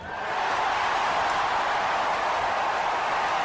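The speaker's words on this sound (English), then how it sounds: "Boo! The crowd are all booing." Tennis crowd at a WTA Indian Wells 2026 match booing, a loud sustained wash of many voices filling the stands throughout.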